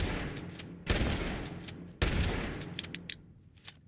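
Shotgun blasts in the video game Fallout 76, two sharp booming shots about a second apart, each trailing off, followed by a few fainter clicks and pops, with no talk.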